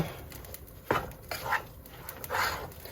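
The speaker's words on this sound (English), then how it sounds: "Alright, so we're going to take this, stir it up." Egg fried rice is stirred in a pan on a camp stove in a camper kitchen. A few soft scrapes and clinks of the utensil sound faintly against a quiet background.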